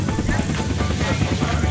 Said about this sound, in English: Thanks for the helicopter.